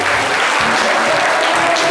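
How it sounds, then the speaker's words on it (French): A live audience claps loudly and steadily for a volunteer singer, dense continuous applause filling the room. "On peut l'applaudir très très fort."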